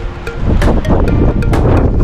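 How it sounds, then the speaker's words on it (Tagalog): Strong wind buffets the microphone in loud, gusty rumbles, with choppy bursts of noise and a few faint clicks, no talking. "Grabe yung hangin."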